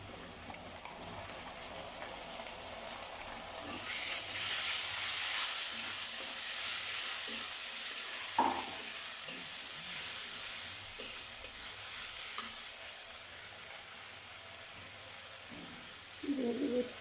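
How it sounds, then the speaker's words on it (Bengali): Onion, garlic, cumin and green chilli paste frying in a pan with browned onion, a soft steady sizzle that swells as the paste goes in, with a few light knocks and birds cooing faintly in the background. "এবার আমি পেঁয়াজ, রসুন, জিরে এবং কাঁচা মরিচ বাটা দিয়ে দেব।"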